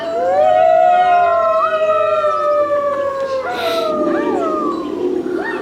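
Long wavering wolf howls rise and fall through the whole stretch, several voices overlapping as in a pack chorus, a loud sound effect marking the werewolves waking in a game of Werewolf.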